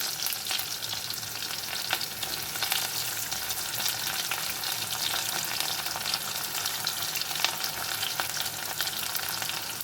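Fenugreek seeds temper in hot oil for a brinjal and raw mango kuzhambu, with onion added to fry, giving a continuous close crackling sizzle with faint stirring throughout.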